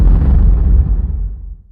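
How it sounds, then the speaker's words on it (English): A single heavy boom with a deep, rumbling decay that fades out over a second or so, like a loud gunshot or blast. "adding in stock sounds like gunshots"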